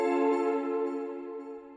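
A sustained keyboard tone in D harmonic minor rings out with rich, even harmonics, slowly fading over a couple of seconds, alone with no voices.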